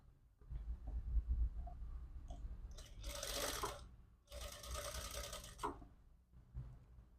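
A sewing machine stitches a princess-cut back-open jacket in two separate bursts of fast, rattling whir, with quiet handling noises between them.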